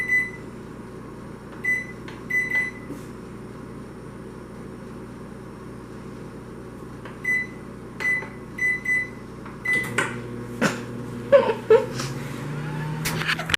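Microwave oven cooking whole potatoes: a steady low hum with repeated short beeps spaced across the run, then clunks and handling noises near the end.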